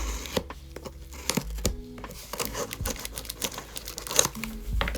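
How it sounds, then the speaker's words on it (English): Close crinkling and tearing of a cardboard box as a scalpel blade slices it open, with scattered scraping and rustling handling noises throughout. "I'm opening it with this scalpel here"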